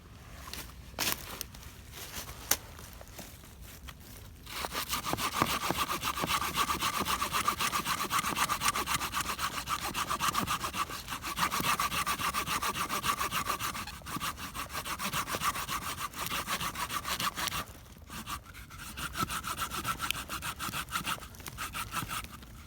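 An ordinary, cheap hand saw cuts through wood in steady, rasping back-and-forth strokes, close and loud with no talk, after a few short starting pulls.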